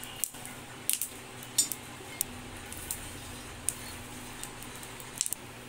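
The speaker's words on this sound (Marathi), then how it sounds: "आपण तव्यावर शेंगदाणे भाजून घेऊया" Peanuts dry-roasting on a tava make quiet, scattered scrapes and light clinks as they are stirred, with soft irregular ticks over a low background.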